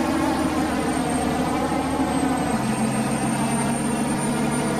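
Heavy truck engine in Farming Simulator 19, a loud steady droning roar with a high whine on top, sounding much like a jet plane, continuous throughout with a slight drop in pitch partway.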